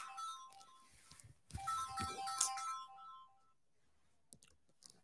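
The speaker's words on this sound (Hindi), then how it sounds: "मेरा फोन बज गया था" A mobile phone ringtone chimes in a repeating melodic pattern, swells louder midway through, then cuts off, followed by scattered clicks and handling noises, with no talking over it.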